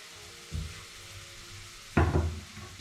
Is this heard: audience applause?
no